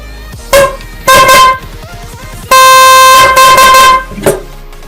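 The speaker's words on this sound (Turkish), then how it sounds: "Evet arkadaşlar, kornanın sesi böyle." A 12 volt horn fitted to a bicycle blares its high tone in loud bursts: two short honks, then one long sustained blast and a final short toot, close and with no talk.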